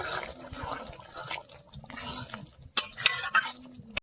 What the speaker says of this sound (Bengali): এখন ভালো করে নাড়িয়ে চাড়িয়ে 2 মিনিট জাল দিয়ে নিতে হবে।